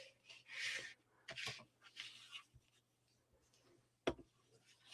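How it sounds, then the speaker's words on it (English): Paper is folded and burnished for a folio, heard as soft, close swishing rubs and scrapes in short bursts, with a sharp tap near the end. "Okay, so you're going to fold and burnish."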